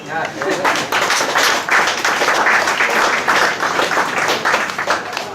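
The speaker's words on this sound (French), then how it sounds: "sous vos applaudissements" Applause from a restaurant audience at a wine award evening in Mauritius, a steady dense wash of many hands clapping at once, fairly loud and continuous throughout.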